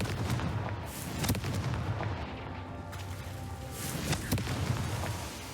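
Confringo blasting spells exploding in Hogwarts Legacy combat, a dense run of loud booming blasts and crackling impacts in quick succession with no pause.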